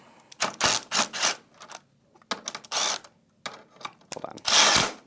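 A power driver removes the bolts from the back frame of a Steelcase Amia office chair, heard as a series of sharp whirring and ratcheting bursts separated by short pauses, close and clear.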